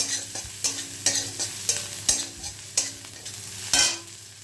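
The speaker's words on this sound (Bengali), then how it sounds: "পেঁয়াজটা ভেজে নিই।" Onions fry in white oil in a pan for a spicy magur fish curry, a steady sizzle under repeated scraping stirs of a spatula, close and alone without talk.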